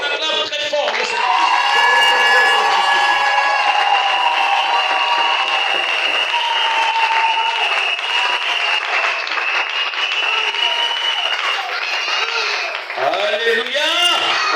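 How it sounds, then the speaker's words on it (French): A church congregation at an evangelism campaign erupts in loud, sustained applause and cheering to acclaim the Lord, with whoops and shouted voices over continuous clapping that swells and holds throughout. "On acclame très fort le Seigneur."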